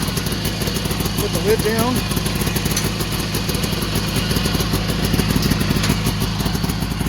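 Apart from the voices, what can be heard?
two-stroke 360 car engine with dual exhaust warming up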